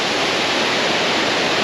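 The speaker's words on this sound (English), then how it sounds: "check out the size of that waterfall" A large waterfall at Jajce, Bosnia, roars as a steady, dense broadband rush of falling water, loud and continuous with no voices over it.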